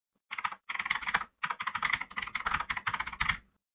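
Bursts of rapid key clicks on a computer keyboard, close and crisp, in several quick runs separated by short pauses, with no voice over them.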